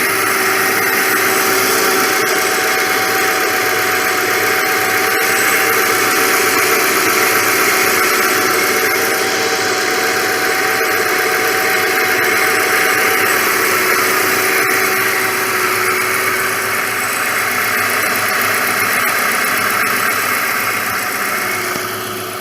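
A 1993 right-hand-drive Subaru Legacy L wagon's 2.2-litre four-cylinder engine idles steadily and evenly up close, a continuous mid-pitched hum with faint mechanical ticking and no voices.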